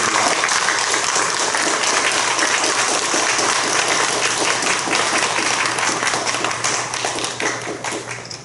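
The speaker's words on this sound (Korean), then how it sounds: "우리 함께 격려와 축하의 박수 부탁드리겠습니다" Applause from a congregation at a pastors' ordination ceremony, dense sustained clapping filling the room and tapering off toward the end.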